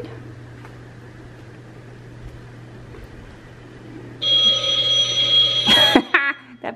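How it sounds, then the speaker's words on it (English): A phone inside a house rings with a repeated electronic tone that starts partway through over a low steady hum and continues loudly for a couple of seconds before cutting off, during a Halloween house tour while a hurricane passes. "That phone keeps ringing."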